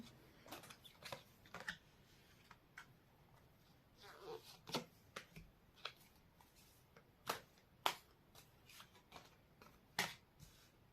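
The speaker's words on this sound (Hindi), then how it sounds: "कार्ड्स निकाल लेती हूँ पहले" Tarot cards are shuffled and drawn, making quiet, sharp riffling snaps and soft flicks in short irregular bursts, close but faint against a near-silent room.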